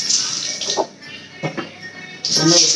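Cooking oil pours into a pan as chicken gravy is being made, with a loud hiss in bursts that fades briefly and then returns strongly near the end.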